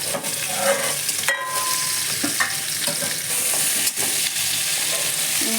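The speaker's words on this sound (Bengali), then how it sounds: "এই তিনটে কাঁচা লঙ্কা ছেড়ে দিলাম এইভাবে আস্তে আস্তে করে নাড়াচাড়া করতে হবে" Green chillies, potato and pumpkin fry in a pan, giving a steady sizzle under repeated scraping and clattering strokes as they are stirred slowly, all up close.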